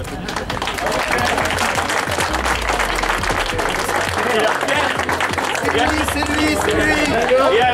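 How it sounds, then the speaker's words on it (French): Dense, loud applause from an audience at a mixed third-division championship event in Nevers, continuous clapping with a murmur of crowd voices underneath throughout. "Je voudrais qu'on l'applaudisse"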